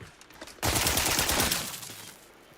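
Rapid automatic gunfire bursts out suddenly and loudly in The Outer Worlds 2 during a fight with Raptidons, a dense rattling fusillade lasting over a second before fading into echoing decay.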